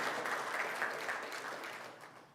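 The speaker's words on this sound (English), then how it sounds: "give yourselves a warm round of applause" Faint, distant clapping from participants at a charity gala fills a couple of seconds, thinning and fading out toward the end.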